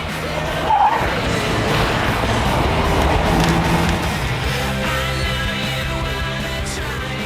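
A 1997 Vauxhall Vectra SRi V6 with a new camshaft and new engine management system driving on the road, a loud continuous engine roar with road and wind noise that rises and falls slightly.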